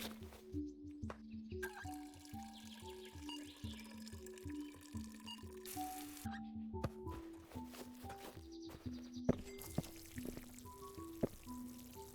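Water pours over plants in the Plant Nursery Simulator video game, a steady watering splash running through the whole stretch beneath a rhythmic, melodic game music loop.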